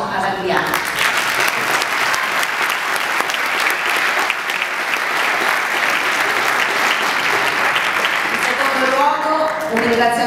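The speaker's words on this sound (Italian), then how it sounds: "vorrei tributare il mio personale e quello di tutti voi applauso ad Adriana." An audience at a charity tribute concert by a band applauds loudly and steadily, a dense wash of clapping that fills the room throughout before easing near the end, with a voice emerging faintly at the close.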